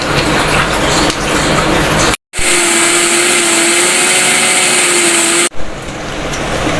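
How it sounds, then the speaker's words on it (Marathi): A mixer grinder blending wet coconut, onion, tomato and water into Malvani fish curry masala roars loudly and close, cuts out briefly, restarts with a steady whine, then shifts tone near the end. "हे बारीक असं मिक्सरला लावून घ्यायचं आहे"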